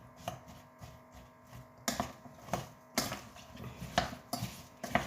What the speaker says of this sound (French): Et maintenant, je vais mélanger tout ça pour qu'il y ait des épices et de l'huile d'olive un peu partout.